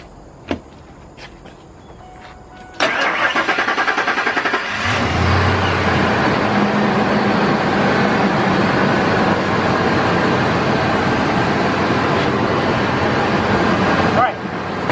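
A 1999 Ford Expedition engine cranking and starting in a garage, catching with a jump in loudness, then idling steadily and close for several seconds before cutting off near the end, with a few small clicks beforehand.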